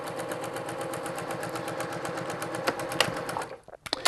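A sewing machine runs steadily through a quilt strip with a rapid, even needle chatter. It is close and continuous before slowing and halting at the end with a few clicks.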